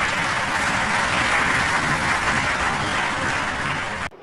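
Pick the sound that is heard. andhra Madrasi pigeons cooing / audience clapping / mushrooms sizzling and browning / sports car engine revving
audience clapping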